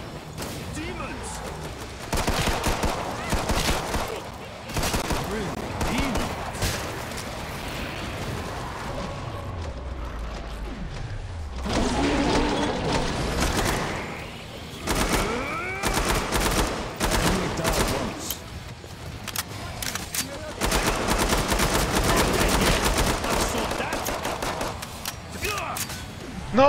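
Gunfire in the zombie shooter Killing Floor 2: dense bursts of automatic and single shots with heavy booming blasts, loud and continuous with short lulls, while a voice talks over the action.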